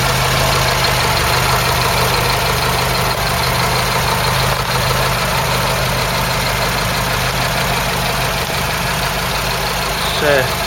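A Ford Cortina MK3 GXL engine with a ceramic exhaust manifold idles steadily with a dense, constant rumble and hiss that holds unchanged throughout; slight exhaust leak at a joint.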